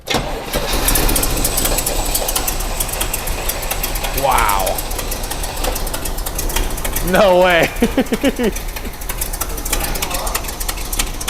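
A 442 muscle car engine, left abandoned for 27 years, cranks and starts, then settles into a loud, steady rumbling idle. Two people briefly exclaim over it.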